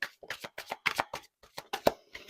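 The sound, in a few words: shuffling oracle cards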